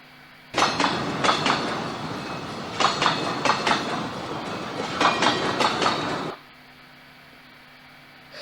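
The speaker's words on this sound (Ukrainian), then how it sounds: "Так, звичайно, потяг." A train rolls past with rhythmic clickety-clack of wheels over rail joints, loud and close for several seconds, then stops abruptly into quiet.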